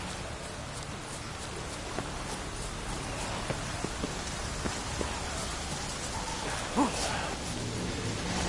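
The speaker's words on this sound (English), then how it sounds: "Looks like rain." Steady rain hisses across the whole span of a PS4 video game scene, a dense wash of falling drops with a few faint louder taps and one brief bright blip near the end.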